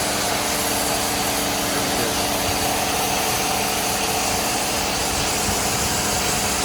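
A Dodge Charger with a 2.7 engine that is overheating runs steadily with both cooling fans on, a constant broadband whir and engine drone holding level throughout without a break.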